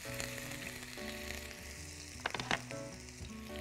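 Ginger sizzles in sesame oil in a wok, a steady close frying hiss broken by a few sharp crackles and pops near the middle.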